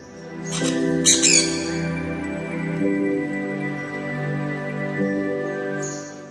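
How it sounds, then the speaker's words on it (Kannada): Shrill squawks from pet parrots burst out near the start over a steady background hum, followed by scattered softer calls. "ಮನೆಗೆ ಬಂದವರು ಸಾಕಿದ ಗಿಳಿಗಳಿಗೆ ಆಹಾರ ನೀಡಿ ಮಾತನಾಡಿಸಿದ್ದಾರೆ"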